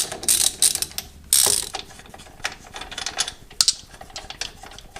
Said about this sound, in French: Maintenant il n'y a plus qu'à finir de dévisser.